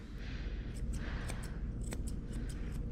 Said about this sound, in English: I'm just going to take my scissors and quickly just trim around these feet